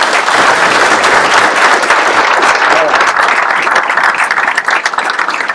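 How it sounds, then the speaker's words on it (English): A swearing-in ceremony audience gives a loud, dense round of applause. The steady clapping stays strong throughout, with some voices mixed in. "Give him a round of applause"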